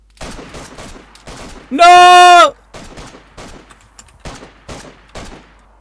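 Gunfire in the survival game DayZ pops in a string of sharp, evenly spaced shots, close and loud, while a voice shouts briefly partway through.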